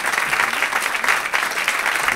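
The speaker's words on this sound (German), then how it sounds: "vielen Dank für den stürmischen Applaus" Stormy applause from a theatre audience at a cabaret show, dense close clapping that holds steady and loud throughout.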